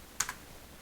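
Two quick, faint keystrokes on a computer keyboard, a pair of sharp clicks close together followed by near silence.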